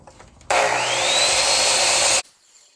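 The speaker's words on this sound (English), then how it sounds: "I'm just going to do a little bit of sanding" Cherry and walnut wood being sanded with a power tool: a loud, steady abrasive whirring hiss starts abruptly, holds for under two seconds, then cuts off into a quiet workshop.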